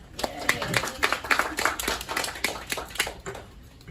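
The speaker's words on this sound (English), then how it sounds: "Give her a round of applause." Assisted living residents applauding a memory clinic guest speaker at a class, a modest round of uneven claps from a small group, near and fairly quiet, with voices mixed in.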